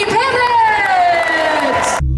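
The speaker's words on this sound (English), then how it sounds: "Give a round of applause, Paddy The Baddy" A crowd cheers and whoops for an MMA fighter's introduction, a loud, sustained roar of shouting voices that carries across the whole stretch before cutting off abruptly.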